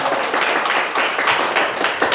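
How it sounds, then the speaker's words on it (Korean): An audience at a lecture claps briskly and continuously, a dense, fairly close patter of many hands filling the whole short moment. "큰 박수 부탁드립니다."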